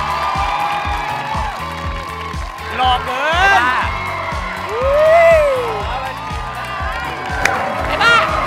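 A Thai talk-show studio audience cheers and whoops to welcome a guest over a thumping music beat, with people talking throughout.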